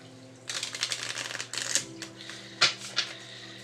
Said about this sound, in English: So let me go ahead and give this a shuffle.